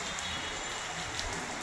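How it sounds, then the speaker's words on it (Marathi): Light rain beginning to fall in Lower Parel, Mumbai, a soft, steady hiss of drops that is fairly faint, with no voices. "आता पाऊस सुरू झाला आहे"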